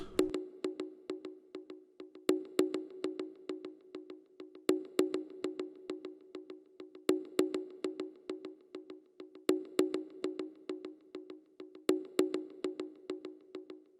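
Bongos played through a Fruity Delay 3 effect in FL Studio, a steady rhythmic pattern of hand-drum hits with echoing repeats trailing each stroke, alone with no voices.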